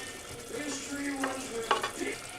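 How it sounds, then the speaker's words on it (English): Karahi mint chicken with broken-down tomatoes, mint and coriander being stirred in a hot pan, giving a steady sizzle with a few scraping clatters of the spoon close by, no talking. "Then give it a final stir"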